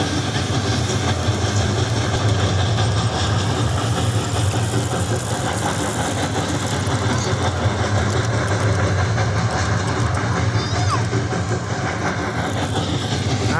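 A model train running on a miniature railway, a steady, continuous mechanical rumble and whir at even loudness throughout, with no pauses.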